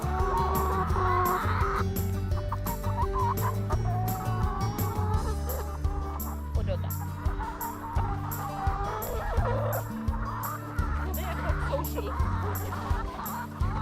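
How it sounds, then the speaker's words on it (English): Hens cluck and squawk busily at close range on a small chicken farm in Värmland, Sweden, a dense overlapping chorus with sharper calls rising above a low steady hum. "these little hens are actually coming up to talk to me"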